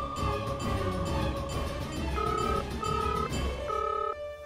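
A telephone rings in repeated electronic bursts over a busy, music-filled background, the ring tones steady and moderately loud.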